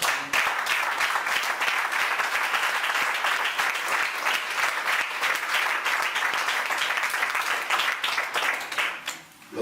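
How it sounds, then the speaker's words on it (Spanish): A church congregation applauding during a Spanish-language sermon, with a sustained, even roar of many hands clapping for several seconds before it fades out near the end. "Aplaudan al Señor."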